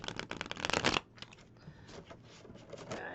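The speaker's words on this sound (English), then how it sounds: "I followed up with that crappy shuffle." A deck of playing cards gets riffle-shuffled up close, a loud fluttering burst of cards slapping together, followed by quieter softer rustling and handling of the cards.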